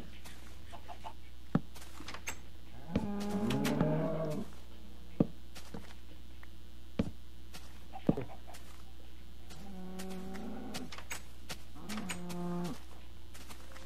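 Cows moo three times at intervals in Minecraft over a steady low hum, with a few sharp clicks scattered between the calls.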